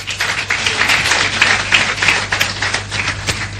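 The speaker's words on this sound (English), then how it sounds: "That deserves a round of applause." A crowd at a live event bursts into steady, dense applause, many hands clapping together at an even level for the whole stretch with no voices on top.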